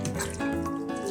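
Vinegar is poured over about 6 kilos of meat for biltong, a short close splashing gush of liquid lasting about a second, with no speech.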